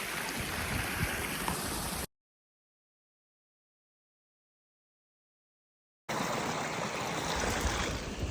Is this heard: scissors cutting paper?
no